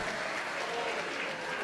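A church congregation at a Sunday school symposium bursts into sustained, dense applause, many hands clapping evenly and loudly throughout without a break.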